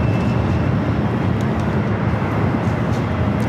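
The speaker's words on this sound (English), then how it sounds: "Next arrival here on the north side is Frontier, coming up from Phoenix. It's an A321" Frontier Airbus A321 arriving at LAX from Phoenix, a loud, steady, broadband jet roar with deep low rumble, close and continuous.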